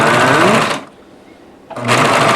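A serger overlocks the edge of a blanket made with crochet yarn in two loud, fast-stitching bursts separated by a short pause of quiet handling.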